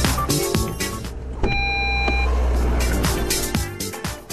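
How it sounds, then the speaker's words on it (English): An Audi's exit warning system sounds a steady electronic tone inside the car to alert to an approaching vehicle or cyclist, holding for about a second over road and motor noise. "Radar sensors on the driver's side trigger a strip of light and then an acoustic signal to warn drivers if another vehicle or a cyclist is approaching."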